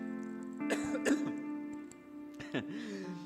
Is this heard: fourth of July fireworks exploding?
no